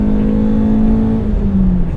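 A 1988 BMW E30 M3 engine roars close by, pitch climbing steadily as it accelerates hard, loud and continuous.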